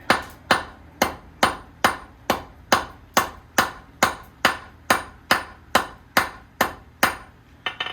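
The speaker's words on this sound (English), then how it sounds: "tilt up, tilt hammer. 3 or 4 sharp blows, rotate," A hammer strikes steel on an anvil while a sharp point is forged, about sixteen sharp ringing blows at an even, steady pace, each decaying before the next, loud and close with no talk.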